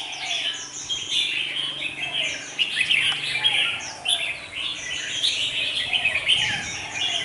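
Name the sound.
red-whiskered bulbul songbird calling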